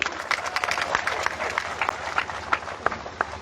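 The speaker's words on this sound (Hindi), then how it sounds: "समझ में आया तब तो ताली बजी ना" Audience clapping at a political speech, scattered sharp claps popping irregularly over a low crowd murmur, moderately near and uneven in rhythm.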